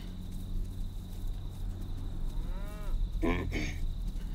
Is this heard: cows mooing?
yes